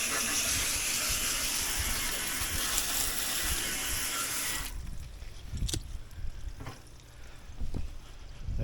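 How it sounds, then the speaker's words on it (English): Water from a hose is sprayed through a heat pump coil from the inside during cleaning, a loud steady hiss of spray for several seconds that cuts off abruptly, followed by quieter drips and scattered knocks. "try to spray it through from the inside"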